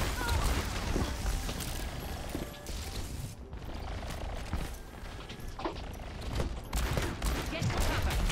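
Rapid bursts of gunfire in the competitive shooter Overwatch, clattering fusillades with mechanical weapon clicks that briefly drop out mid-way before resuming, heard up close beneath the game's ambient noise.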